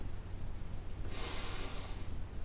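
Someone holding a hip flexor stretch takes one long, audible breath out. It comes as a soft, airy whoosh midway through, close by, over a quiet low hum, with no talking.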